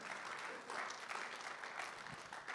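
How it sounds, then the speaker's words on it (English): A church congregation claps hands together in steady, dense applause, heard from a distance and moderately quiet, with no talking over it. "Can you clap your hands if you agree with me this morning?"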